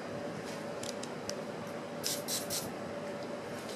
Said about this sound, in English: One, again per Mike, spray the pump with silicone spray